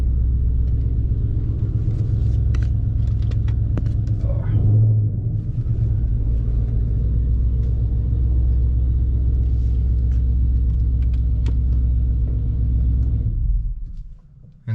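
A Dodge Charger Scat Pack, its engine still cold, rumbles with a deep steady low-end drone as it creeps slowly forward, loud and close throughout before dropping away near the end.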